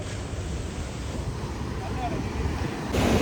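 Sea waves wash in at the shore at sunrise with a steady broadband roar, wind buffeting the microphone throughout and the surf swelling louder at the very end.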